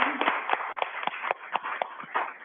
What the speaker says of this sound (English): I just want to give another round of applause to this fantastic panel